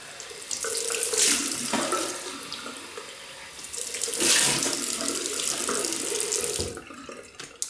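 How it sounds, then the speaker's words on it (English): Tap water runs into a sink for several seconds while someone rinses their face after shaving, a close, steady splashing that swells and eases as hands move through the stream. "So I'm just going to rinse off."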